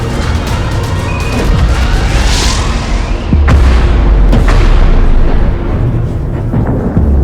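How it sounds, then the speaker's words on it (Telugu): Missile strikes on commercial oil tankers near the UAE produce dense, continuous roaring blasts with heavy low rumble and a few sharper booms, loud and close throughout with no speech. "UAE commercial oil ట్యాంకర్లపై Iran మిసైల్స్తో attack చేసింది."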